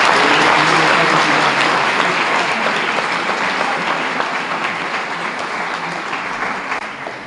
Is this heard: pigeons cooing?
no